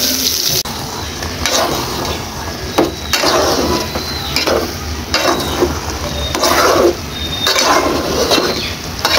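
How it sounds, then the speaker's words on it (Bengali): Eggplant (brinjal) slices fry in a pan for begun bharta, giving a loud, constant sizzle broken by repeated scraping bursts as the pieces are stirred and turned. "তো বেগুনগুলি আমি ভেজে নিচ্ছি প্রথমেই"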